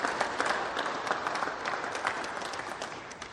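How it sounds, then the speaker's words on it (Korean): Church congregation applauding a newly registered family during a Sunday worship service at a United Methodist church, a steady wash of many hands clapping at moderate distance, fairly soft, with no talk over it. "여러분 한번 박수해 드리겠습니다."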